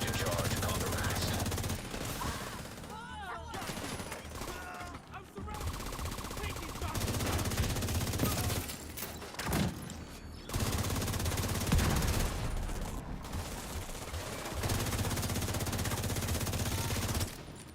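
Video game gunfire, with bursts of rapid automatic shots and heavy firing in several stretches, loud and dense, mixed with game sounds and radio-style voices.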